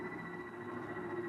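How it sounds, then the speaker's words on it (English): Generators building up power for a remote-controlled motor in a science-fiction radio drama: a steady electrical hum with a sustained low drone and faint high whine, continuous and even throughout, with no voices. "The sound you hear is our generators here, building up power to supply the motor by remote control."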